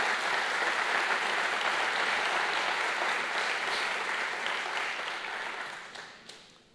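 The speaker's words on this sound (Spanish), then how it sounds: "Den un fuerte aplauso a Jesús por esta palabra que hoy es dada." A congregation applauds loudly during a Sunday church service in a Spanish-language sermon, with dense, steady clapping that holds for several seconds and then fades away near the end.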